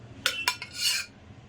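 Boiled sweet potato pieces tumble into a metal vessel with a few sharp clinks and clanks, followed by a brief scraping rattle, close and fairly loud.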